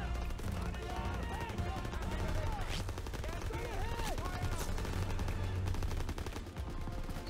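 Rapid bursts of gunfire from a World War II shooter game run through the battle, dense and continuous, with shouted voices and harmonic tones mixed in.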